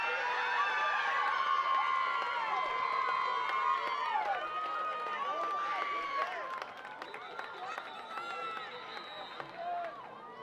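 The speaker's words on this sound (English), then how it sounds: "Cheering from another score there" Spectators cheer and shout at a girls' high school flag football playoff game after a score, a sustained crowd roar of high-pitched voices and whoops from nearby, dropping off slightly toward the end.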